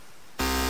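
A distorted bass synth made in FL Studio bursts in after a moment of hiss, a loud, harsh, buzzing sustained tone with dense noisy upper content.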